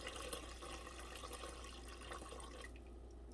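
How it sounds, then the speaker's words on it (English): Water from a bowl is poured into a cooking pot while making cook-up rice with beef, a faint, continuous splashing and trickling of liquid that tapers off near the end, with no talking. "Then 1 more bowl of water."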